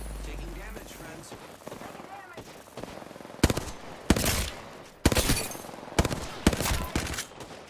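Video game gunfire erupts in sharp bursts of loud shots and rapid volleys through the second half, over a busy game soundtrack with a voice talking beneath.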